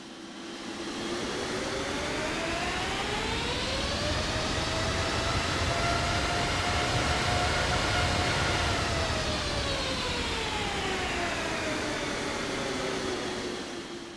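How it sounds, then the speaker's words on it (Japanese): A Boeing 787-8 airliner's General Electric engine in Microsoft Flight Simulator 2020 hums and whines, its tone rising to a steady high pitch and then winding back down, heard alone. "次はエンジン音を確認してみます。"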